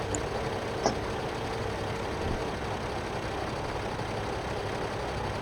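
In a farming video game, a tractor's engine drones at a steady low rumble while it pulls a load, with one small click partway through and no talk.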